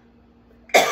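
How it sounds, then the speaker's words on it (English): A single sharp cough bursts out close and loud at the end, after near silence. "I'm so sorry to be coughing on you"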